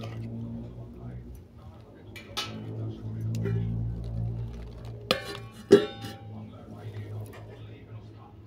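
Fish curry is stirred in a pan with a utensil, producing soft scrapes and clicks, followed by a couple of sharp clatters as a dish is set over the pan. A voice talks throughout.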